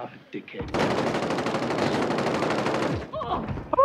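A multiplayer shooter video game produces a sustained, loud, rapid burst of gunfire lasting a couple of seconds. Brief game sounds and faint voices come just before and after.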